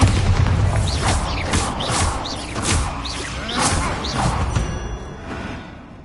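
Bombarda explosion spell cast in the Hogwarts Legacy video game, a string of booming blasts, whooshes and crashing debris over a loud rumbling backdrop that gradually fades toward the end.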